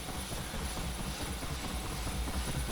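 A UH-1 Huey helicopter engine starting up in the DCS game, a steady broadband whine and rumble with a high turbine tone, continuous and even, heard alone without talk.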